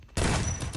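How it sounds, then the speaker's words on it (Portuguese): Gunfire in the mobile battle royale game Free Fire, a loud sustained burst of rapid shots that starts abruptly after a brief quiet moment and continues to the end. "Tô ouvindo tiro ali, hein?"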